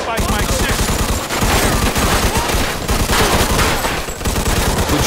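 Rapid bursts of gunfire fill a Mafia II shootout, loud dense volleys of shots with brief pauses between them, and voices speak over the firing.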